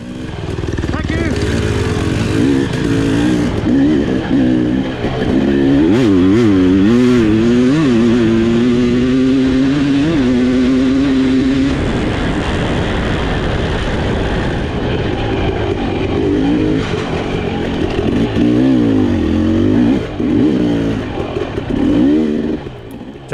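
A Kawasaki dirt bike races on a course during a nine-hour team enduro near Stanton, Alabama, its engine revving loudly and wavering in pitch as it passes close by, with a commentator talking over it.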